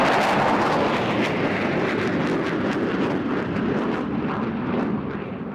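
A Tornado jet flying at a seaside airshow gives a loud, continuous roar that fills the whole clip and fades slightly toward the end, with no talking.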